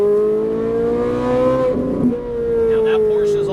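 A Ferrari 458 Italia on a track gives a loud, close engine drone that rises steadily under acceleration, dips briefly as a voice speaks over it, then climbs again.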